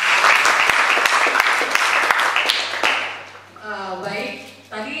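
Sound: audience applause

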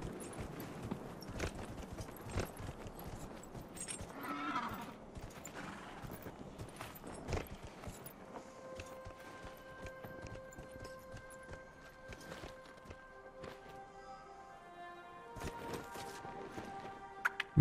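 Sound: horse hooves clip-clopping uphill, from the video game Dragon Age Inquisition

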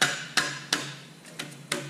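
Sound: dead blow hammer driving adapter plate onto engine

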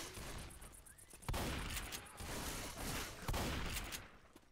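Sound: gunfire in the video game Left 4 Dead 2

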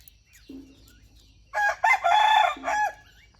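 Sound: chickens clucking and crowing

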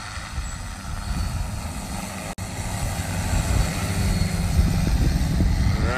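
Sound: large heavy lift drone flying at full speed in sport mode

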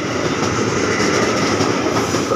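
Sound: KRL commuter line train at Manggarai station

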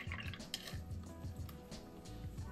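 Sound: paintbrush being washed in water, dripping

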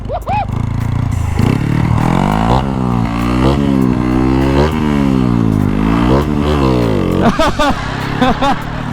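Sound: vehicle engine revving

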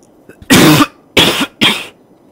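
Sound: coughing into microphone

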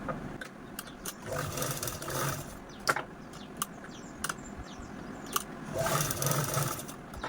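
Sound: sewing machine stitching folded cloth edge

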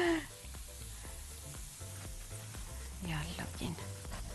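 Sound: taqliya (tasha) sizzling in hot oil with dried coriander

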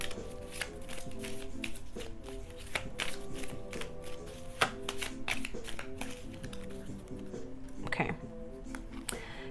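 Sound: shuffling affirmation cards

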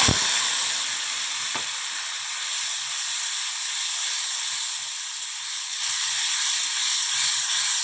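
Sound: potatoes added to hot oil with five-spice, frying

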